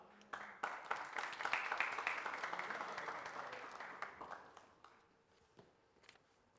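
Studio audience applause on a TV show set, a dense clapping swell that builds quickly, peaks, then thins out over several seconds into scattered claps.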